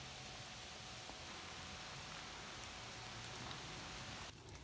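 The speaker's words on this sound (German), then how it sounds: "So, jetzt sind wir hier voll in den Regen reingekommen." Steady rain on a hiking trail in the Malerweg area, a dense even hiss of drops that stays constant throughout, with a brief change in texture near the end.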